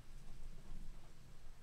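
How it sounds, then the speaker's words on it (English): Low rumbling thunder rolls on under steady rain, a continuous faint wash with no clear individual cracks. "There's a thunder right on cue."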